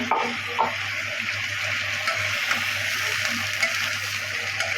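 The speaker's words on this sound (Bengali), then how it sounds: "টমেটো দিয়ে কষাবে সবজিগুলো দিয়ে দেবে" Cauliflower, eggplant and tomato sautéing in a home cooking pan, a steady broadband sizzle with light stirring clatter, close and continuous without talk.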